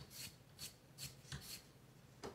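A dull Kershaw Launch 13 knife is drawn across the stone of a TS Prof Pioneer sharpener in about six short, even rasping strokes, close and quiet.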